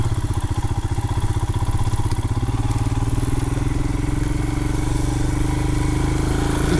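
A Royal Enfield Himalayan motorcycle engine thumps steadily and loudly at low speed as it rides over a rocky mountain jeep trail, its single-cylinder pulse rising slightly as it climbs.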